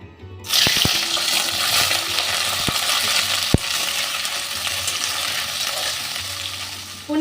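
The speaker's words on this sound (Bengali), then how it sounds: "এই পনিরটা আমি ভেজে নেবো" Large paneer cubes drop into hot oil mixed with ghee and set off a sudden loud sizzle that keeps going steadily, broken by a few sharp clicks and taps from utensils.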